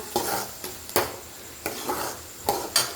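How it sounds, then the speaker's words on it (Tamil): Ground paste is stirred in a hot cooking pan with macaroni nearby, producing sharp scraping strokes at a steady, repeated rhythm over a soft sizzle, close and clear, with no talking. "நல்லா கிண்டி விடுங்க"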